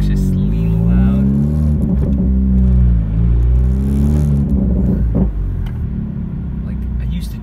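A 2017 Honda Civic Si is driven on the road with its exhaust disconnected from the front pipe, giving a loud, deep, droning rumble that rises and falls with engine load and continues the whole time.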